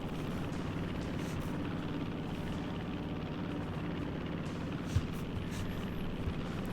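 A video game recon plane drones overhead with a steady, even engine hum that never rises or fades and carries no talk.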